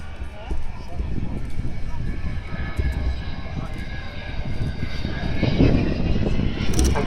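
An Avro Vulcan XH558 jet bomber makes a flypast at an airshow, its broad engine roar building steadily louder as it approaches, with a crowd and a commentator's voice mixed underneath.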